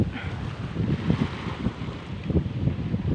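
Wind and sea waves wash along a shoreline on a morning beach walk, a continuous broadband roar with soft surges and wind buffeting the microphone, no voices.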